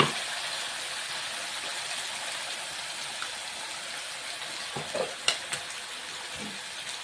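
Masala paste fries in a pan with a steady, close hiss and sizzle, joined near the end by a few soft scraping stirs, with no talking.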